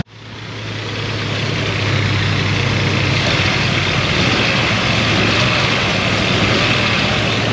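A Ford Sport Trac engine with a spark-related misfire runs steadily and loudly close by, a continuous rough drone with no talking.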